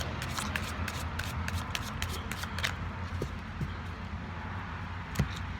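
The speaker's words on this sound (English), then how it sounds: "I'm going to shuffle the cards a little bit more" Tarot cards are shuffled by hand outdoors: quick, crisp riffles and papery flicks in short bursts, close up, over a soft background hum.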